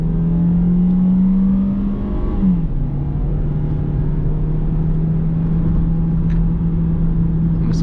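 A 2020 Peugeot 2008 1.6 automatic pulling up a mountain road, its engine droning steadily from inside the cabin, pitch climbing then dropping briefly at a gear change before settling into a lower, even hum.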